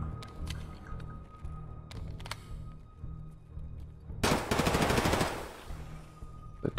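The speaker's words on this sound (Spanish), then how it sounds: "Estos tiros van a llamar a todo el mundo" Dense burst of gunfire during a video game raid against a boss and his bodyguards, a loud rapid volley lasting about a second amid quieter scattered shots and game ambience.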